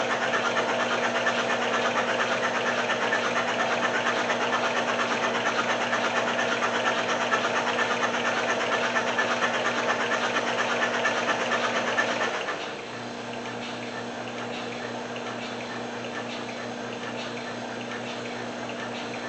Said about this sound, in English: we're basically done checking the engine. And we're going to let it run here for an extra minute or so, and we're going to let it break in.